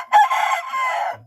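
A rooster crows once, loud and close, in a single drawn-out call of about a second that trails into a short low cluck, with Thai free-range black-tailed Pradu Hang Dam chickens on a farm.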